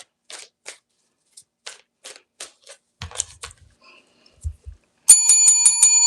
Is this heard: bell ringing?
yes